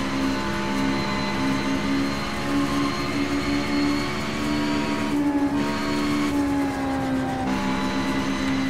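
A race car in the rFactor 2 driving simulator holds a loud, steady engine drone at full throttle, with a sustained whine that shifts pitch briefly as it runs, with no talking.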